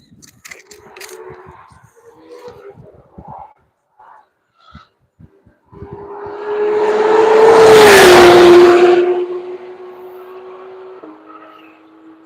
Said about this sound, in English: Here comes the Michelin C8 once again, getting ready to begin his third and final lap.